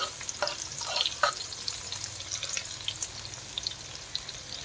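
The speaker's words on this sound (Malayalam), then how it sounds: "ഇനി പച്ചമുളക് ഇട്ട് കൊടുക്കാം." Green chillies fry in oil for a mixed pickle, giving a soft continuous sizzle with scattered crackles and pops, fairly quiet and close, with no voices.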